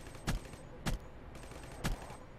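Video game burst rifle firing three-round bursts, like an M8 trimmed from four rounds to three: three short, sharp, punchy bursts at uneven intervals, loud and close, with no talking.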